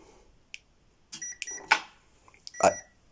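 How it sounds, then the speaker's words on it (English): A few short electronic beeps from an RC car's speed controller, including a quick double beep acknowledging neutral, ring out against near silence. "I hear the double beep, which means it is correctly acknowledging the neutral."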